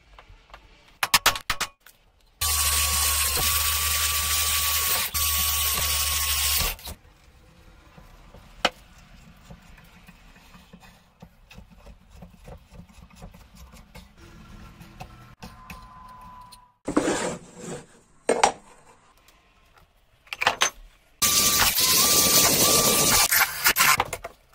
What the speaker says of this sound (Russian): Сейчас сделаем несколько отверстий.